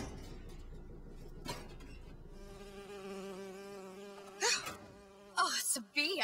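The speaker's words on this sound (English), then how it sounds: "Oh, it's a bee." A bee buzzes in BioShock Infinite, a steady insect drone over game music with a few sharper bursts near the end.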